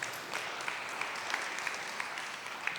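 Steady applause from a roundtable audience on smart water, a moderate, even patter of many hands clapping at a distance with no pause across the whole stretch.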